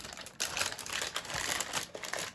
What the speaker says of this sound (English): Once you've got that all done, you just peel off the wax paper.